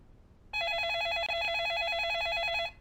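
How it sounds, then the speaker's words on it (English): A telephone in the adventure game The Feeble Files rings with one steady electronic trill for about two seconds, clear and alone before cutting off abruptly. "I hate the sound of phones ringing so much."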